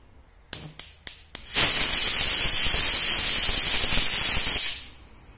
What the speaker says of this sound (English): I set to pressure cook for 20 whistles